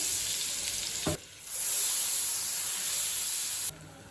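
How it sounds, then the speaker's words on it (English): Butter and oil sizzle steadily in a kadai, a close, continuous frying hiss that dips briefly for a moment, then returns at full strength. "Now I have taken the another kadai and I am dropping the butter"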